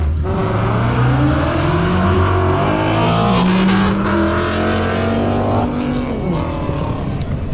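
A new Ford Mustang GT's engine roars loudly and up close, its pitch sweeping up and down through strong, steady harmonics across several revs, with no voices over it.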